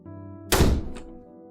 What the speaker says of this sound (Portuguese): Um estrondo muito alto na porta fez com que nós dois pulássemos.